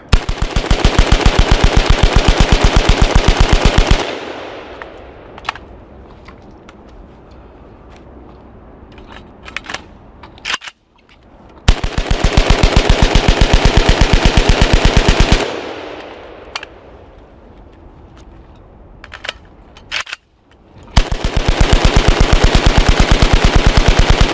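Semi-automatic rifle bump fired with a bump stock outdoors, loud sustained bursts of rapid gunfire lasting several seconds each, separated by quieter stretches with a few scattered clicks and handling sounds.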